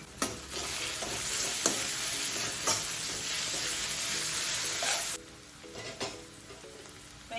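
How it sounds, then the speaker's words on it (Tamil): Onions with turmeric sizzling and frying in a pan, crackling steadily while a spoon stirs with intermittent scraping clicks; the sizzle drops off abruptly near the end, leaving quieter pops and scrapes. "வெங்காயம் நல்லாவே வதங்கிருச்சு."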